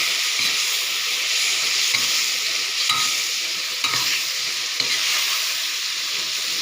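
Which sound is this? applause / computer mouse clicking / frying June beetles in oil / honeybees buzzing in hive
frying June beetles in oil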